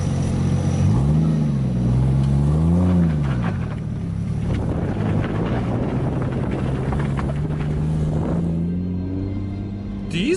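A 2JZ-swapped Nissan S13 rumbles close by while creeping around a tight cul-de-sac, its engine note rising and falling as it revs, then settling into a steady idle-like drone.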